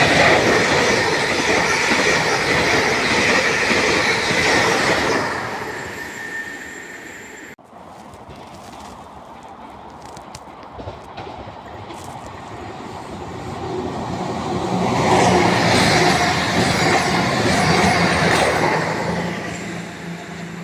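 A train rumbles loudly past at close range through a station in Birmingham, fading in the middle and swelling again, with rhythmic wheel clatter and occasional squeal.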